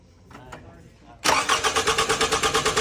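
Toyota Corolla starter cranking without the engine catching while the key is away from the ignition, a loud rhythmic churning of about a dozen even pulses after a few quiet clicks, close by.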